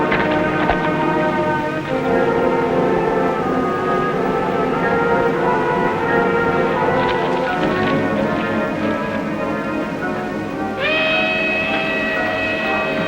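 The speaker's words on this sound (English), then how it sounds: "That's a westbound train." The westbound Sunset Limited passenger train approaches in a 1956 western, a loud steady rumble with sustained tonal drones and a higher whistle-like tone rising near the end.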